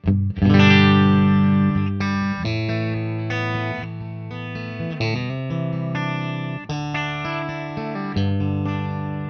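A clean electric guitar, a Telecaster, plays sustained chords and single notes through a Bravado amp, with a slight shimmer and natural ring, alone with no voices.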